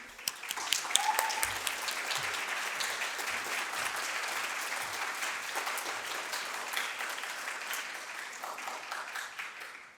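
An audience applauds to welcome a speaker at a colloquy honoring Eva Brann, steady sustained clapping from a full room lasting several seconds before fading at the end.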